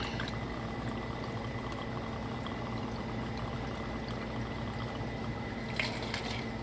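Kangaroo gin and dry vermouth poured for a martini, a steady, continuous liquid stream close by, ending with a faint clink.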